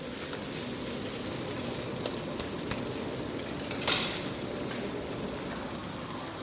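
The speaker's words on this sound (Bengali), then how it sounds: "দেখেন আমার চাউলটা এখন ভাজা হয়ে গেছে" Rice frying in a pot while making biryani gives a steady, close sizzle with a few brief stirring clicks and scrapes, continuous throughout and without speech.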